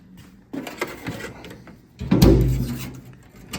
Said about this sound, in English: Let me lock this door.